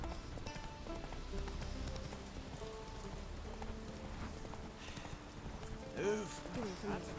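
Roach the horse from Witcher 3 gallops with a rapid, steady clip-clop of hooves on a road, close and continuous, with a short whinny near the end over a low game score.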